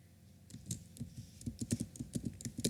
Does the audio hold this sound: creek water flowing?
no